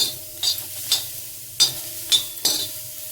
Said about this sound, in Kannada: ಎಣ್ಣೆ ಹಾಕಿಲ್ಲ, ಹಾಗೆ ಹುರ್ಕೋಬೇಕಿರುತ್ತೆ